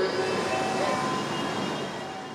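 Dhaka metro train running on the elevated viaduct between Agargaon and Motijheel, a steady rolling rumble with a faint high whine, fading slightly toward the end.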